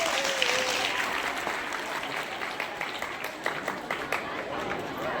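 At a school event, an audience breaks into sustained applause, a dense wash of clapping that gradually thins into scattered claps, with voices mixed in.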